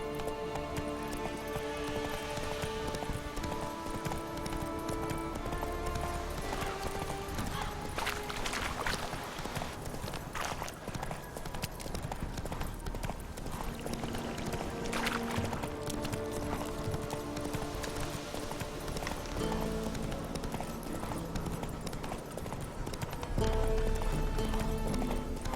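A horse gallops in the video game The Witcher 3, rhythmic hoofbeats running continuously beneath swelling orchestral game music.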